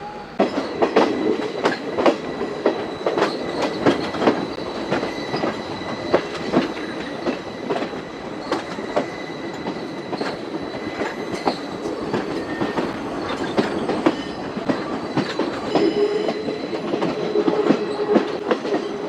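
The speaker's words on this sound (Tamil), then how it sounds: "திரிவோசா கொண்டு போகிற ட்ரெயின்." A train carrying Thriposha rumbles steadily past close by in Sri Lanka's hill country, with rhythmic clickety-clack of wheels over rail joints and occasional metallic squeals, no voices.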